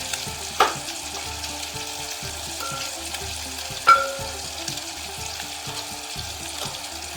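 Bacon cooking in a pan for Irish stew gives a soft, continuous sizzle up close, with two distinct clanks of a utensil against the pan and faint occasional ticks.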